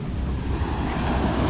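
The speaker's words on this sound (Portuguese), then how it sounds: "a água invadiu aqui" Sea water splashing into a fishing boat, a loud, close, continuous wash of surging water with wind buffeting the microphone and no talking.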